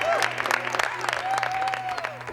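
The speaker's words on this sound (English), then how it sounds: "a clap for Cal" A crowd applauds outdoors for Cal Ripken Jr.'s Hall of Fame announcement, staff of his baseball organization clapping in a brisk, sustained patter, with voices and cheers mixed in under a steady low hum.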